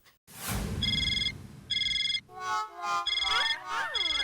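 An electronic phone ringtone plays in repeated bursts, then shifts into a warbling melodic tune, fairly close and clear, with a brief rustle at the start.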